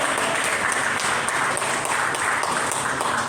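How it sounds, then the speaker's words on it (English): Steady, dense applause from a crowd for Lefty fills the whole moment, many hands clapping evenly without pause. "another round of applause for good old Lefty there"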